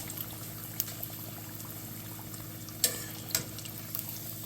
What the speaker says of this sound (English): you want deep enough oil so you can spin them around like this so they're getting fried all the way around